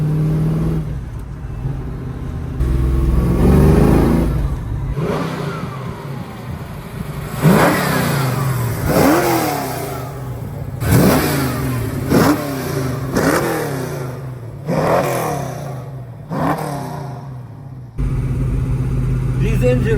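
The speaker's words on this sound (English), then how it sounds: "I like the exhaust notes. It's not too aggressive, but it's not too quiet." A 1969 Ford Mustang Fastback muscle car engine revs repeatedly nearby, each sharp burst of exhaust rising and falling, with idling rumble between the revs.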